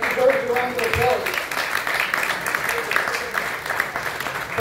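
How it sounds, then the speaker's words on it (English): Crowd applause at a Columbus Day celebration in midtown Manhattan, a dense wash of clapping that stays steady throughout, with voices talking over it. "they deserve a round of applause"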